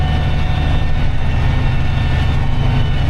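An old, unsoundproofed tractor engine runs loudly while plowing a field, a continuous heavy low rumble with a steady droning hum, close and unbroken throughout.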